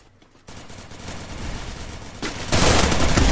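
Rapid automatic gunfire during a team match in an online shooter game, loud and dense, swelling into heavier bursts toward the end, with no talking over it.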